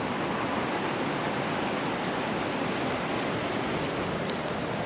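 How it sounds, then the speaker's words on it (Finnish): Water flows steadily in a river where people once fished, a continuous broadband rush with no break, loud and close to the microphone and heard alone without voices. "Vesi virtaa."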